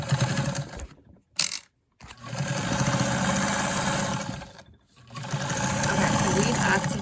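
Vintage Super zigzag sewing machine stitching with a buttonholer attachment fitted, a loud, steady mechanical whir in long runs broken by two short stops and a longer pause, with brief talk in the gaps.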